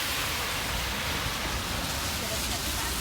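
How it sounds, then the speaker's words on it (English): Heavy rain pouring down outdoors in a jungle setting near Washington, DC, heard as a dense, continuous loud hiss with no breaks. "It's raining hard."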